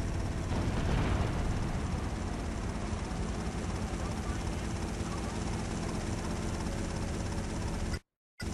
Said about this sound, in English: This person's in a helicopter.